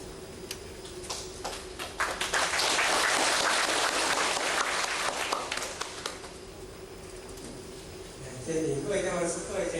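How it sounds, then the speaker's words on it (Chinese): A room of attendees at a Zhongyong classics class bursts into applause, a dense, fairly loud clatter of many hands that swells, holds for a few seconds, then fades as a voice begins speaking. "咱做先生的请咱以迄个掌声"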